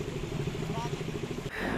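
A motorcycle engine idles and revs while the bike sits stuck during a river crossing, a steady mid-level drone with people talking over it and a brief shift near the end.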